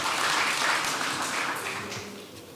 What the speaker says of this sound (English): but they also deserve an applause.